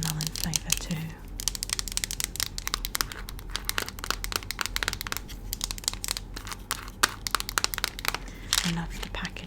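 Strawberry candy packaging crinkles and crackles close by in dense, irregular bursts, with brief soft speech at the start and end.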